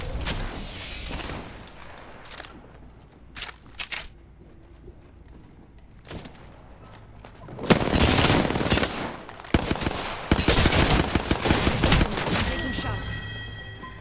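Rapid automatic gunfire from the video game Apex Legends crackles in loud bursts, sparse at first and then dense and near-continuous toward the end, with a voice talking over the shots.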